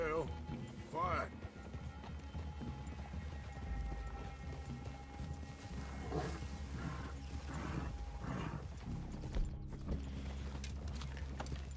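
Horse hooves in Red Dead Redemption 2, a soft clip-clop as riders move through a forest clearing, heard faintly beneath people talking, with occasional snorts and creaks.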